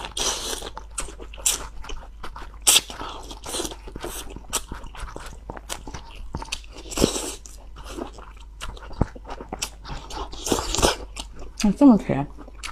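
Fried spinach, mature and large-leaved, is bitten and chewed close up in a run of crisp crunches and wet bites, with brief spoken bits between mouthfuls.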